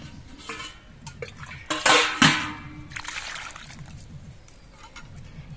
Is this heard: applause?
no